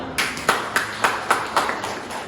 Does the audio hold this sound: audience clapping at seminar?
yes